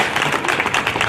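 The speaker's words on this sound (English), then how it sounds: "Let's give our state senator another round of applause" A crowd at an outdoor Juneteenth 2021 flag-raising ceremony in East Orange applauds a state senator, a steady, dense wash of clapping sustained throughout at moderate loudness.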